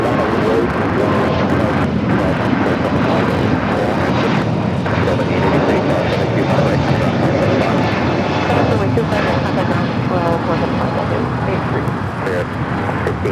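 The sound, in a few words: United Airbus A321neo jet airliner at LAX airport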